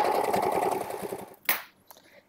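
A sewing machine zigzag stitches fabric in a quick, whirring burst of needle clatter that stops abruptly after about a second, followed by a sharp click and a couple of faint handling taps.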